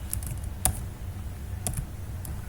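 A few sparse keystrokes of code typed on a computer keyboard, light close clicks spaced out over a quiet room hum.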